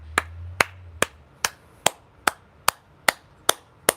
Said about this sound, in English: you can clap like this and make more noise